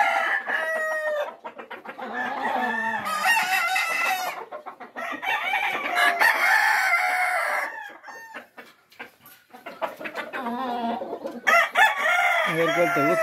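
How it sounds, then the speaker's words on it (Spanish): Fighting roosters on a ranch crow repeatedly, their loud, close calls coming in several long bursts with short clucks between, while a voice talks at points. "Ahí está el gallo bíblico, el retinto"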